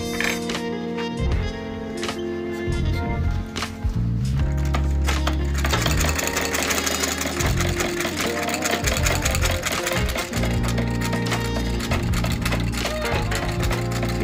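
A sewing machine stitching a leather men's bag, producing a loud, dense mechanical whir and rapid needle chatter that runs almost continuously with brief pauses.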